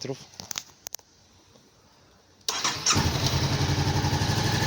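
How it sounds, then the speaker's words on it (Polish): After some light handling noises, a cold 2018 Honda CB 500F motorcycle engine fires up abruptly and runs at a loud, steady idle close by. "odpalimy motocykl."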